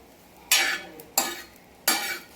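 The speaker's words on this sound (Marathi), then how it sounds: "इथे मी तव्यामध्ये भाजून घेत आहे" Cluster beans (gavar) dry-roasting on a tava, stirred three times in a slow rhythm; each stir gives a loud scraping rustle that fades over a low background, with no talking.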